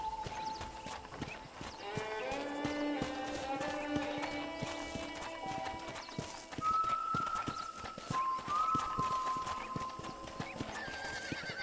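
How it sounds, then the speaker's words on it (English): Rhythmic hoofbeats clip-clop steadily as a horse moves along in Red Dead Redemption, with whinnies and bright melodic tones over a busy game soundscape. "let's see if you can still ride a horse."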